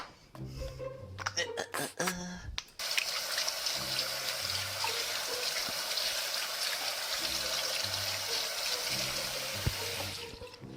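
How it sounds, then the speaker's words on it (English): Hands washed under a running tap before baking, steady splashing water for several seconds after a few knocks and bumps, with a muffled voice briefly audible at the start. "So first thing we do is we wash our hands."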